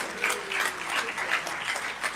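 Brief, moderately faint applause from an audience at a national forum on women in government and media follows a speech, a steady patter of clapping lasting about two seconds.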